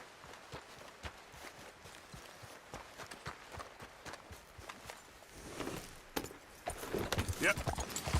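Quick, rhythmic hoofbeats of a spooked horse in Red Dead Redemption 2 clatter at a gallop, fairly faint, over a light background of noise, growing slightly louder toward the end.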